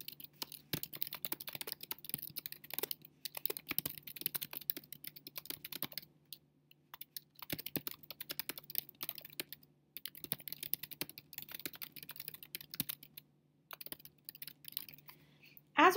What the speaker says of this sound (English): So we'll type in a quick description here.